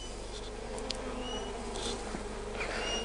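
Bees buzzing around a top bar hive, a close, steady insect drone with brief louder passes as individual bees fly near, quiet and continuous with no talking.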